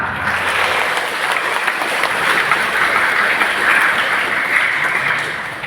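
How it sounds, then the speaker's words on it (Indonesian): Congregation applause inside the St. Pius X parish church in Gisting during a Sunday sermon, a broad, steady wash of many people clapping that continues evenly for several seconds at moderate loudness. "Tepuk tangan untuk paroki kita"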